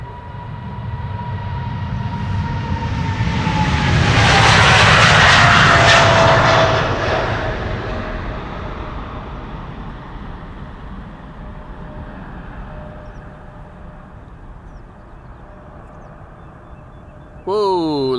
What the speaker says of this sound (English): We're standing here at Polderbaan, runway 36 left, where parallel departures are in progress right now.